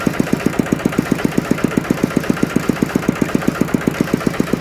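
A Kubota engine on a small farm truck with a slow gear and dump bed idles close by, with rapid, even knocking pulses at a steady rhythm.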